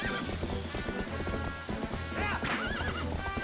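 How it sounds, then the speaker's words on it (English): Epona, the horse in the Zelda: Twilight Princess video game, lets out a loud, wavering whinny over a steady rumble of game music and hoofbeats, with a second neighing cry rising toward the end. "I like how they can shoot Epona and it doesn't hurt me, but Epona screams"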